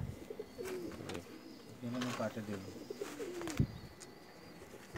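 Pakistani Teddy pigeons kept in Jeddah coo in repeated soft, throaty phrases close by, with a sharp peep among them.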